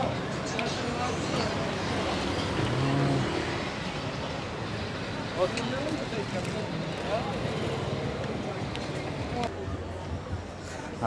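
Heavy night traffic on a busy street in Phuket, Thailand, a continuous rumble of passing vehicles with scattered engine surges and distant clatter heard from close by on foot.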